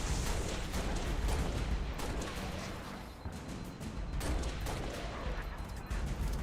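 Heavy weapon fire from a fuel rod cannon in a video game, a dense continuous barrage of booming blasts and gunfire that stays loud throughout, with no pause between shots.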